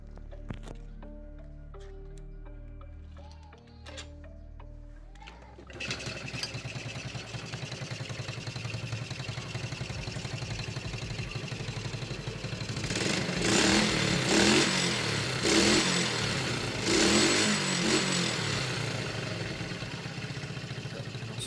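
A Yamaha Vega R motorcycle engine, missing its air filter cover, starts up and idles steadily close by, with revs rising and falling in the second half.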